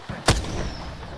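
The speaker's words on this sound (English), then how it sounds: "Another squad is shooting at us." A single booming gunshot rings out from another squad in the battle royale game Apex Legends, a sharp close blast followed by a rumbling decay over steady game background noise.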